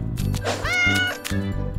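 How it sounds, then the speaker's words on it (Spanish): A cartoon cat gives a drawn-out, clear meow with rising and falling pitch, loud and close, set against a steady musical background with no speech. "¡Es un adorable gato!"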